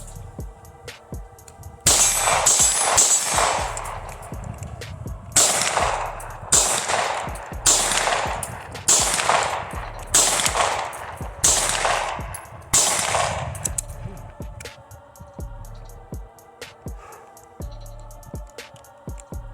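Pistol shots fired at a target 100 yards away, loaded from a Magpul P-Mag Block 17 magazine, ring out in a steady series of about eight loud, sharp reports spaced a second or so apart, with no talking.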